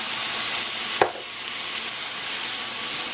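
Fried rice sautéing with a splash of water in a T-fal non-stick pan, a steady close sizzle with a brief sharp clink partway through.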